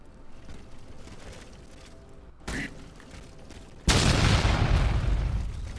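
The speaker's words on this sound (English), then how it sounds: "With the explosion." A video game explosion in Steelrising bursts in with a sudden loud, broad roar that sustains and slowly fades, following a short muffled thump earlier under low ambient noise.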